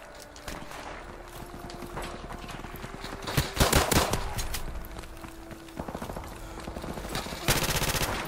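Rifle fire in Call of Duty: Modern Warfare Remastered, with sharp repeated gunshots and bursts over a busy game soundtrack, including a dense cluster of shots midway and heavy firing near the end.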